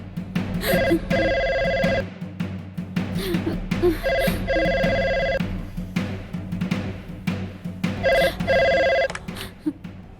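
An old-style telephone bell rings three times in evenly spaced bursts, loud and close, over a busy background of voices and clatter in a film scene.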